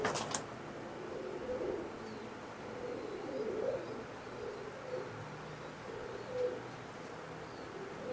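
Imported Teddy pigeons coo softly in a series of low, rolling calls over a faint background hiss, with a few chirps mixed in and no voices.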